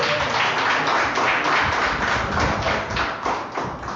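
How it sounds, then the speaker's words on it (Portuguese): Church congregation applauding together during an evening worship service, a dense, steady wash of many hands clapping that stays loud and continuous throughout. "Dê uma salva de palmas ao Senhor"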